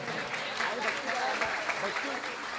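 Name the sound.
audience applause for performers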